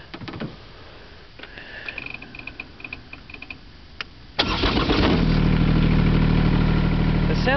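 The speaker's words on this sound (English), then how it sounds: "The sound is really like" A 2010 Kubota GR 2110 lawn tractor is quiet with a few clicks, then its engine cranks and catches, settling into a loud, steady, close-up idle.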